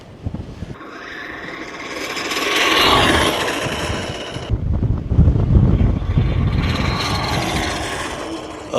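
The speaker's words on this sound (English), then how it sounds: "It is so windy." Strong outdoor wind buffets the microphone with loud, broadband gusts that swell and ease over several seconds, mixed with mechanical whirring from a nearby RC boat or car.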